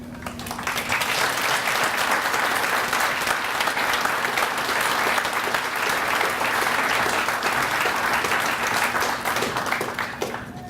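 Sustained applause fills a hall for three student winners of a Martin Luther King Jr. essay contest, many hands clapping steadily for about ten seconds before easing slightly at the end.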